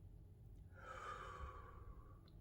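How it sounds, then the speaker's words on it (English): One slow, calm breath drawn in through the nose, heard as a soft, close airy rush that swells and fades over about a second and a half in a quiet room. "breathing in through the nose,"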